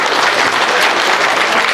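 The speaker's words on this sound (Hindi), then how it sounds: "ताली मारिबा टिके" Audience at a BJP joining program at a party office bursts into steady, dense applause, loud and close, lasting the whole moment without a pause.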